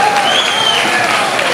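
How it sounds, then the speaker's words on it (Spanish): Applause and cheering rise from an outdoor jazz festival crowd in Cabarete for a jazz trio, loud and dense, with a voice over it. "Fuerte el aplauso para ellos."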